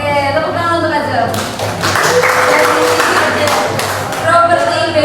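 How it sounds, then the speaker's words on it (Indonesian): Students in a dance and arts classroom clap, a burst of applause lasting a few seconds with a voice speaking before and after, the clapping fairly close and lively. "tepuk tangan untuk Ajeng"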